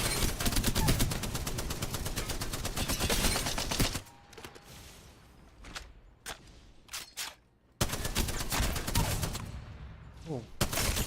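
Apex Legends gunfire arrives in a loud, rapid burst of automatic shots for four seconds, then scattered single bursts with pauses, and rapid fire again near the end, with a voice talking over parts of it.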